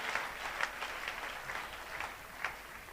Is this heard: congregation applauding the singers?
yes